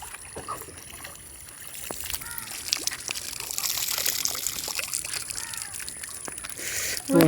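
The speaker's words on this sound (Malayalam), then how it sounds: "വെള്ളത്തിന്റെ സൗണ്ടൊക്കെ കേൾക്കുമ്പോ ചൂടത്ത്" Water flows and trickles in a paddy field where people are fishing, a steady nearby wash with small splashes and sloshes, and people talking in the background.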